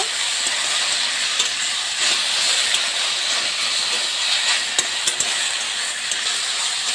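Chalta sizzling in a pan with turmeric and salt as it is stirred, a continuous bright hiss with occasional soft scraping clicks, steady and close throughout.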